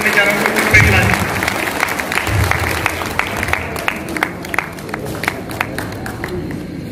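Audience applause at a celebration event honouring Mr. Premlalji, Navneetji and Rabindraji, a room of people clapping, with the claps thinning into sparse scattered hits as voices carry on.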